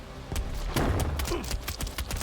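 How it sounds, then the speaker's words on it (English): A giant explosion in the video game Asgard Fall: Origins, a cluster of heavy booms and thuds bursting in quick succession at moderate loudness. "There's a giant explosion."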